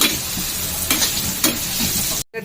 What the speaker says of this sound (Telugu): సిమ్లో పెట్టి ఇక మంచిగా వేయించుకోవాలి